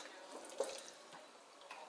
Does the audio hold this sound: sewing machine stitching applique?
no